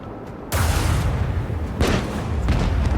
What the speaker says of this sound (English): Fire the lance batteries.